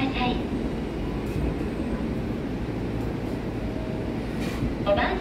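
Electric train departing a station platform on track 5, a low steady rumble of rolling wheels and motors with platform announcements spoken over it.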